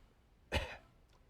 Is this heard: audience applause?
no